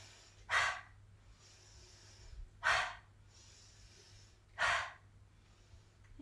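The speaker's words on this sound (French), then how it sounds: "J'inspire." Three deep, slow breaths drawn in during a guided relaxation and breathing exercise, each a soft airy rush lasting about half a second, evenly spaced with quiet pauses between, close to the microphone over a low steady hum.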